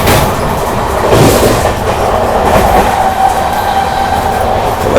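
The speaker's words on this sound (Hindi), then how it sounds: "अपनी ट्रेन जो है 110 की स्पीड पर भागना शुरू कर चुकी है" Inside the Lucknow Mail Express at around 110 km/h, a loud continuous rumble of rolling stock with rhythmic clickety-clack of wheels over rail joints and a faint squeal in places.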